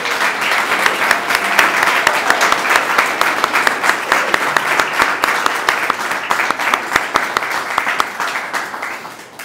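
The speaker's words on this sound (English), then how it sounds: "another round of applause for our talented Sufi melody" Sustained audience applause at an annual gala and awards ceremony, dense rapid clapping from a large crowd that holds steady for the whole stretch and thins slightly near the end.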